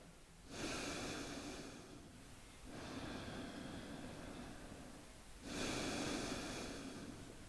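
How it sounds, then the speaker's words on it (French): Slow, deep abdominal breaths during a breathing exercise, long airy inhales and exhales drawn in and out over several seconds, close and steady with no talking. "en commençant à respirer sur le bas de l'abdomen, et qui ensuite remonte pour amplifier et déployer votre respiration"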